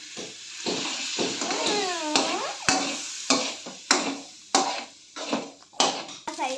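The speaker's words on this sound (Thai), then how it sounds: "คนเลยค่ะ" Spaghetti is stirred in a frying pan, giving repeated scraping strokes of a utensil on the pan with a light sizzle underneath, in an uneven rhythm of short bursts.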